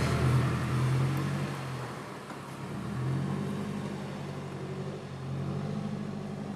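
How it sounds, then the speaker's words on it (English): Nissan Silvia S14 being driven onto a trailer, a low idling engine rumble with gentle rises in throttle, steady and fairly close throughout. "we're gonna load up the car next"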